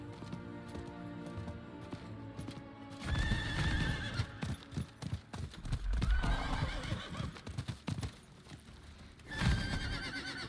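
Horse hooves clip-clop at a run in Diablo IV, with loud whinnying neighs breaking in twice, over a busy background of game music and effects.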